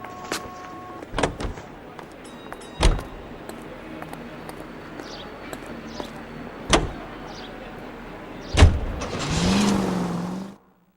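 Car in the L.A. Noire video game: door thumps and clicks in a quiet cabin, then the engine starts and revs up loudly before cutting off at the end, with no speech.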